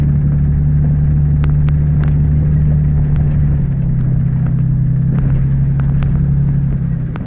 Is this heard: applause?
no